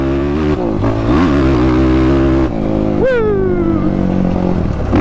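A motorcycle on Obor Advent MX tires revs hard and accelerates through sand with a loud, wavering engine roar and tires spinning and sliding, ending in a sharp rising whine.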